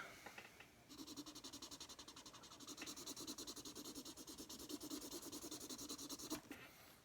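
A marker drawn lightly across paper while shading a fade around a helmet in a rendering, a steady run of close, soft scratchy strokes in quick rhythm lasting several seconds, with no talking.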